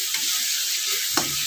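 Potatoes and chicken pieces fry with spices for a home-style chicken curry, a loud continuous sizzle filling the short moment, with a single scrape of a spoon stirring near the end.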